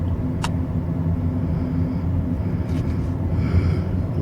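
Steady tyre roar and low road rumble from a 2024 CUPRA Born electric car while driving, a continuous broadband hum with no engine note, close and even throughout.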